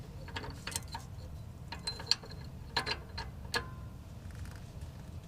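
Socket wrench ratcheting as it torques down a car's O2 sensor, quick clicking pawl ticks in short irregular bursts, fairly faint and close, with light handling noise between them.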